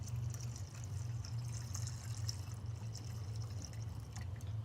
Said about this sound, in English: You want to fill it up onto the little bar that's there in the reservoir.